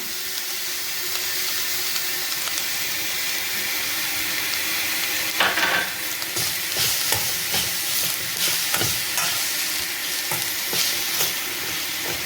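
Grated coconut roasts in a pan with a steady dry sizzle and hiss, broken by scraping stirs and light clinks of the spoon, close and continuous with no talk.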